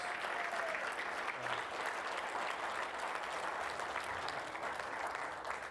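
Steady, sustained applause from an audience for young civil engineering graduates of Eastern Samar State University, a dense even wash of many hands clapping at a moderate distance with no voices over it.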